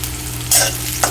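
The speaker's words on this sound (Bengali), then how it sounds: "রসুনটা দিয়েও হালকা কিছুক্ষণ ভেজে নেব" A brief burst of loud sizzling as chopped garlic hits hot oil with onion in a pan, with a stirring scrape close up.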